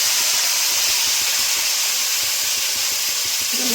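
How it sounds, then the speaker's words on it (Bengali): Potatoes fry in hot oil with a steady, dense hiss, close and even throughout, with faint low bubbling underneath. "আলুগুলো দিয়ে দেবো, আলুগুলো ভেজে নেব।"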